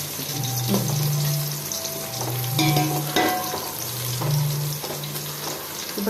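Chicken biryani masala stirred in a pan, a steady sizzle with scraping spoon strokes and a few clinks, near and fairly loud, no talking.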